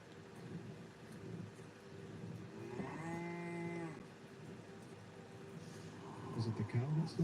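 A cow lows once in a video game, a drawn-out tonal moo in the middle of the stretch over a low ambient bed, with faint rumbling and other game noises near the end.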